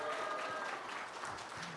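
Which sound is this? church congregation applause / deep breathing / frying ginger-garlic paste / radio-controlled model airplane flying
church congregation applause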